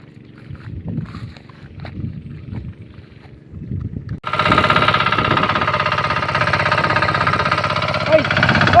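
After a stretch of people talking outdoors, a small irrigation pump engine in a rice field starts up abruptly and runs loud and steady with a rough, chugging drone, voices briefly heard over it.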